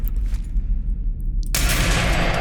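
A gunshot in Fallout 4 lands as a single sharp report about halfway through, then a dense, loud burst of noise carries on over a constant low rumble of game ambience.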